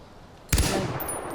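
Machine gun fire in the video game Far Cry 4: one abrupt, loud burst followed by a sustained ringing, reverberant tail, with no voices.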